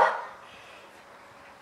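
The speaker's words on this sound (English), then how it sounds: "Sorry about the dog, guys." A single dog bark rings out near and loud at the very start, then fades into a quiet room tone with no further barking.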